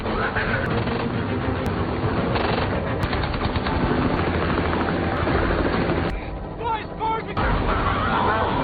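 A loud, continuous helicopter roar fills the scene, thick and heavy, with other rumbling noise and voices mixed in.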